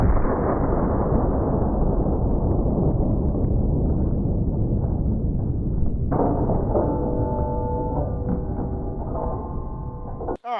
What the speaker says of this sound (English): That didn't explode as violently. I thought it would be not as bad as the dirt. But it still did explode.